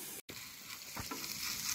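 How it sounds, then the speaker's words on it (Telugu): Green chilies frying in hot tempering oil on the stove give off a soft, steady sizzle with a brief crackle, faint and close, with no talk over it. "పచ్చిమిర్చి కూడా మంచిగా ఫ్రై అయిపోయిందండి."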